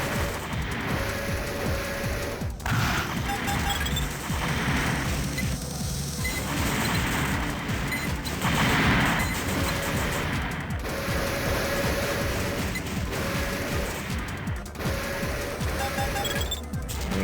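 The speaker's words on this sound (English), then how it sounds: "Must have hit with almost all of the missiles." Missiles from a mech in Armored Core: Project Phantasma strike targets in a dense built-up area, a continuous barrage of rapid explosive impacts and crashing bursts with several sharper blasts over a steady rumble.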